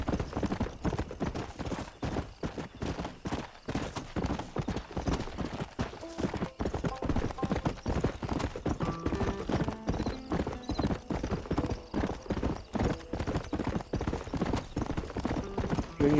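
Horse hooves clip-clop steadily in Red Dead Redemption, a continuous trotting rhythm of close, distinct hoof strikes running throughout, with a brief whinny and faint talk mixed underneath.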